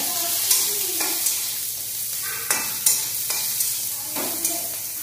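Onion, fennel and cloves dry-roasting in a pan, a soft hiss broken by a series of scraping strokes from a stirring spoon, repeated roughly every half second to second, close by.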